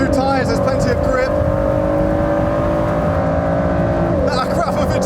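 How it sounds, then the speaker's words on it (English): A sports car with an Akrapovic exhaust drones steadily under acceleration, a sustained, strong engine tone. People speak briefly at the start and end. "That Akrapovic exhaust. It sounds brilliant in the cabin, outside."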